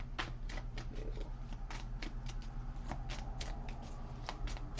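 Oracle cards shuffled by hand, a steady run of soft, papery riffles and flicks close up, over a constant low hum, with no one speaking.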